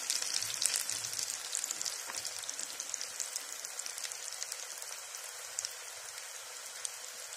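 Potato French fries crackle and sizzle steadily in hot oil on a gas stove, a close, dense frying hiss with no talking.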